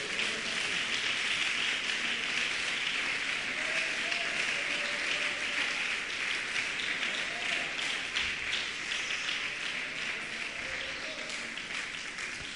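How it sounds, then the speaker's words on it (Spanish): A church congregation applauds together in a sustained, dense wash of clapping that holds steady throughout, with faint voices rising beneath it. "Yo quiero que le dé un aplauso al Señor"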